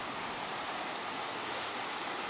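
The San Gabriel River in Azusa, California flows in an even, broadband rush of water, steady and moderately quiet with no distinct splashes or voices.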